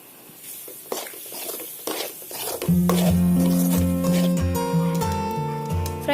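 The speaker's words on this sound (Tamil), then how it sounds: "ஃப்ரை பண்ணி வச்சிருக்க கிழங்கு உள்ள கலந்துக்கோங்க" Fried yam pieces tossed into ground coriander, cumin and turmeric in a pan, heard as soft scraping stirs and light clatters; a sustained tonal sound then rises over the stirring.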